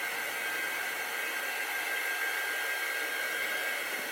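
A hair dryer blowing on Mod Podge in a craft project, a steady close whooshing roar with no change or speech.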